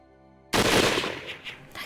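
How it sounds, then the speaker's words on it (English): A gunshot in the video game Hakuoki: Kyoto Winds hits as a single sharp, loud blast after a quiet moment of soft music, then a short echoing tail fades out. "That gunshot just now."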